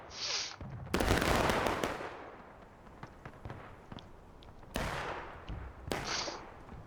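Cannon fire in The Blue and the Grey, a Civil War battle game: several loud booming blasts, one large report near the start and two more toward the end, with scattered distant shots and rumble in between.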